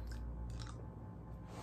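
Close, steady chewing of a Bean Boozled jelly bean, soft wet mastication with a few brighter crunchy bursts over a continuous low background, no talking.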